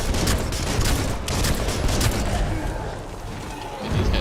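Rapid, dense video-game gunfire crackles almost continuously, loud and close, with bullets flying everywhere and a few deeper booms mixed in.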